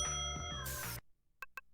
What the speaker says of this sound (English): Bell. Ding.